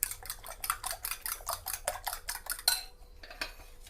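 A fork beats eggs in a medium-sized bowl, giving a quick run of rhythmic clinking strokes for about three seconds, close by and clear, before the sound stops.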